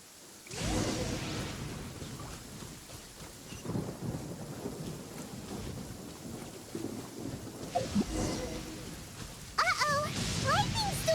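Thunderstorm in the video game Genshin Impact, with heavy rain and deep rolling thunder building and swelling across the whole stretch, punctuated by sharper cracks near the end.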